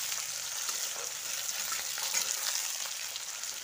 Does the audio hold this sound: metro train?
no